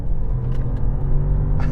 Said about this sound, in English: Let's experience that twin turbo 4-litre V8, and it absolutely flies.